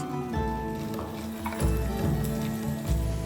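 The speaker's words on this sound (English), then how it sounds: "Fry for 5 minutes." Minced meat, 400 grams of it, sizzles steadily in a frying pan, with a continuous close crackle and a few soft scraping stirs.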